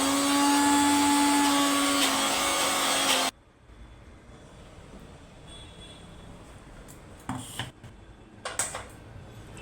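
A blender grinding lentils into a paste runs loud and close with a high whining motor for about three seconds, then cuts off abruptly, leaving quiet room noise with a few light clatters and knocks.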